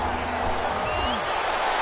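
Crowd noise at a video game football broadcast swells steadily as a dense, continuous roar of cheering fans ahead of a big third down.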